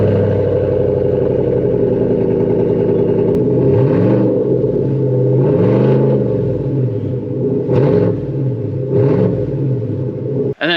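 A GMC AT4 tow truck fitted with an aftermarket exhaust, its deep engine rumble loud and steady close by, swelling in repeated revving surges with a throaty drone, a brief clatter near the end.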